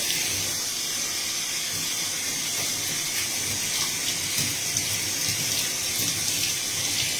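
Tap water runs steadily while hair is rinsed clean of conditioner with cooler water, a constant close splashing hiss for several seconds with no talking.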